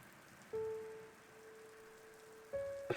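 Steady rain falls during a storm as a soft, even hiss beneath sustained low tones, faint and continuous throughout.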